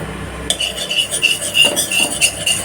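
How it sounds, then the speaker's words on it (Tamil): A small spoon stirring baking soda into lightly warmed oil in a bowl for onion pakoda batter, a continuous close scraping and clinking of metal against the bowl, fairly loud and without speech. "ஒரு சின்ன ஸ்பூனில் சோடா உப்பை எடுத்து நம்ம இந்த லைட்டாக சூடு பண்ணியிருக்கிற எண்ணெயில் இதில் சேர்த்துக்கிறோம் சேர்த்துட்டு நல்லா மிக்ஸ் பண்ணுறோம்"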